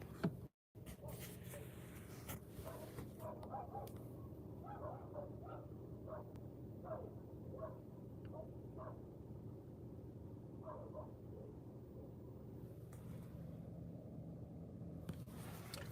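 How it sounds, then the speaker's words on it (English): Dog barking during dog training in Finland, a series of short faint yips and barks in an irregular rhythm, heard distantly from inside a car over a steady low hum. "We got some dog training going on."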